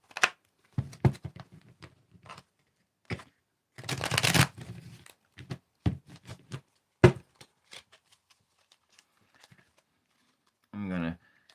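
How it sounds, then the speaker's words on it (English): A deck of playing cards being riffle shuffled near the mic, a dense ripping flutter of about half a second. Scattered shorter card handling and brief speech come before it. "And then here's my last riffle shuffle coming up."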